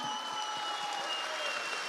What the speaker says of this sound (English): should we give Ibrahim a huge round of applause